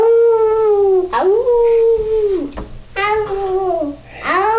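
A young child imitates a wolf howl, several long rising and falling voiced howls with short breaks between them, close and loud, voice clearly human rather than animal.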